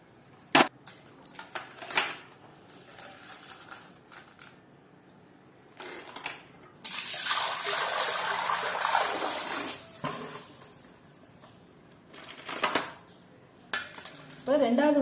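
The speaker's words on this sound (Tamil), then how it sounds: "ஃபர்ஸ்ட் 2-3 அலசிடணும் தண்ணியிலேயே." Crabs being rinsed in water in a metal pot, with clattering knocks and scrapes against the pot and a longer stretch of sloshing, splashing water in the middle, close by.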